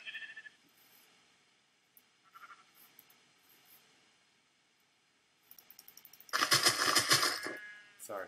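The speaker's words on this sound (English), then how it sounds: "Gotta be a sheep." Sheep bleating in the Minecraft video game, a few faint short game sounds early, then a loud, rough bleat near the end.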